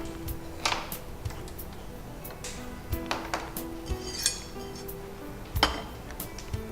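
A kadai pan is set down on a stove in a television kitchen, metal clinking and knocking in scattered light taps, close but faint, with occasional soft voices in the background.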